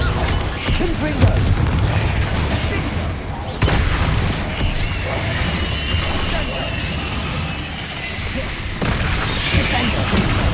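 Explosive spell blasts in the Hogwarts Legacy video game, heavy booming crashes repeated through a busy stretch of loud combat effects.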